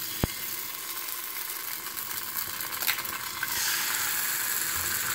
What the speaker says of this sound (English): I got a nice sizzle on that.